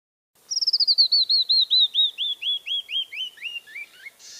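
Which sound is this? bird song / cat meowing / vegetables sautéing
bird song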